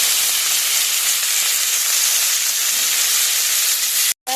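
Rice mixture dropped into hot oil in a wok, giving a steady, loud, broadband sizzle that holds for several seconds before a brief cut.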